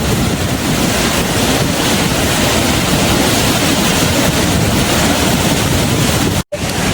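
Overflowing Shetrunji dam during the monsoon sends water rushing in a loud, continuous roar that fills the space, with wind buffeting the microphone and a brief dropout near the end.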